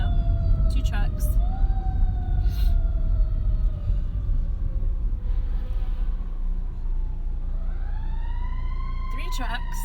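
Several fire trucks race along a street in Georgia with wailing sirens that sweep up and down, rising and falling over steady traffic rumble, loud and close as they pass.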